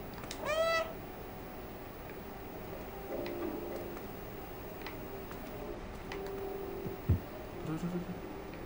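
A cat in the video game Stray gives a single short, clear meow at the start, followed by quiet ticking and soft game ambience with faint background noise.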